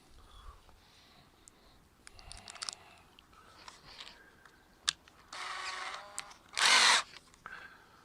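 A power drill drives a screw into a wooden garden plank, giving a short whirring burst followed by a louder, brief high spin near the end, over quiet outdoor background.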